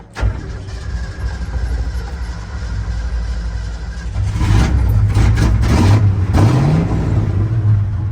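A 1970 Ford truck's engine cranks, catches and runs up through several revs, loud and close, with a rumbling idle between the throttle blips and no talk.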